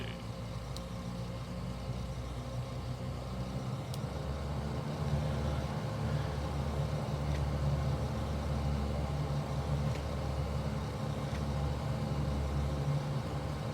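Saab 340 turboprop engine 2 spooling up in MSFS 2024, a steady low rumble and whine that rises and thickens about a quarter of the way in, then holds loud and continuous with no talk.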